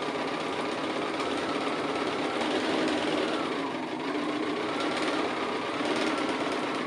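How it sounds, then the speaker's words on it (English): A sewing machine runs steadily for several seconds, stitching a quarter inch from the line along half square triangles for a quilt, with a continuous close, even mechanical whirr and no talking. "we're sewing 1/4 of an inch away from the line, and we're going to go down both sides"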